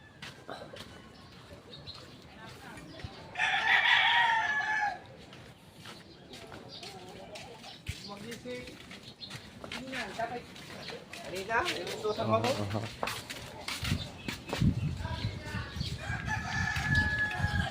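A rooster crows loudly for about a second amid outdoor chatter and other faint bird sounds.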